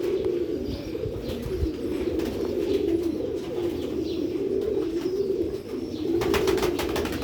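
Large Sialkoti pigeons from a 25-year-old breeding line coo continuously in a loft, a low rolling drone of overlapping calls close by, with a few sharp ticking sounds near the end and no talking.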